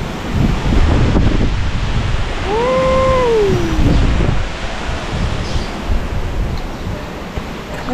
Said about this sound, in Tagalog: Sobrang lakas ng hangin dito